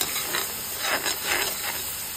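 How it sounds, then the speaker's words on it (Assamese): A spice paste fries in a pan, giving a soft, even hiss with faint stirring swells, low in level and heard without talk. "এয়া মই মছলাখিনি ভালকৈ ধুনীয়াকৈ ভাজি আছোঁ"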